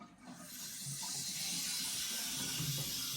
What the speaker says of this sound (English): I'm just going to rinse all the dirt out from the bottom of there